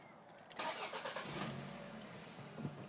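A 1998 Toyota RAV4 with about 230,000 miles, its engine running after a timing belt and drive belt replacement, a faint steady hum that rises briefly near the start, with no talking.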